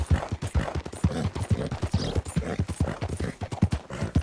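Horse hooves clip-clop in Red Dead Redemption 2, a rapid, steady galloping rhythm of close, distinct hoofbeats with no talk.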